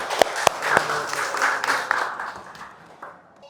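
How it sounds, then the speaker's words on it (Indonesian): Classroom applause for a student in an Islamic studies lesson, a short burst of uneven clapping with a few sharp close claps, tapering off toward the end. "Tepuk tangan untuk Nafi Utin."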